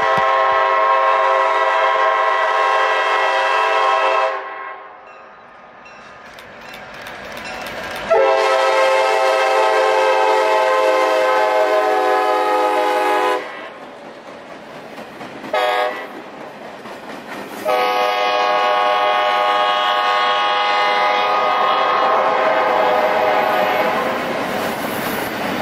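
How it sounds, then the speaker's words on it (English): Freight train Z865 rolls through a small Ohio town at about 35 mph on the CSX Toledo mainline, with a loud, close horn blaring over the rumble and clatter of passing cars. "Z865 would come by doing track speed of 35 through the small town"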